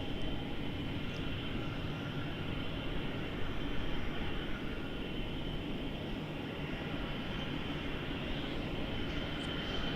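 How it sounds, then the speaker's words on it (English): Airbus A320 engines spool up at Melbourne Airport, a steady broad jet roar with a high whine on top, held evenly for ten seconds at a distance. "Aircraft spooling up, starting up"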